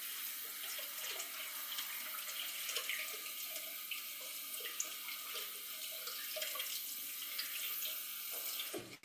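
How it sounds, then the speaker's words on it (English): Tap water runs steadily over noodles sitting in a sieve, a continuous close splashing hiss of rinsing for several seconds that ends abruptly as the flow stops. "I'm gonna rinse it with water."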